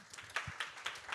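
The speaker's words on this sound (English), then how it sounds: "And we can make another round of applause." Audience applause at a Le Bon Coin Tech community talk welcoming attendees: a short, fairly quiet spell of scattered hand claps with irregular sharp bursts, heard alone without talk.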